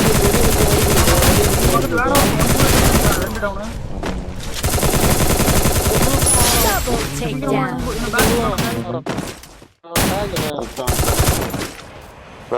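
Rapid automatic gunfire crackles in the Free Fire MAX mobile battle game during a tournament match. The bursts are loud, dense and repeated, with brief pauses, and players' voices talk over the shooting.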